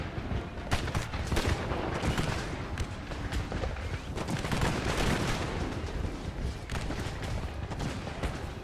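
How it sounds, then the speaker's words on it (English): Massed musket fire across a large Napoleonic battle at Moscow, dense overlapping volleys with booming reports, steady and continuous rather than distinct single shots. "They're getting hit hard, I think, by musket fire."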